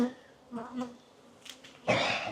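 Honeybees buzzing around an opened, agitated hive during an inspection, a faint, wavering drone with a thin tone, followed by a louder clatter near the end.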